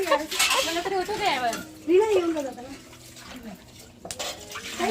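Dishes clink and water splashes during washing, while people talk over it close by.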